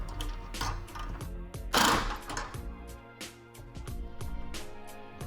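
Tightening a nut on the intake snorkel mount of a 2015-2021 Subaru WRX, with a run of close, quiet metallic clicks and rattles from the wrench, one brief louder scrape partway through, no talking.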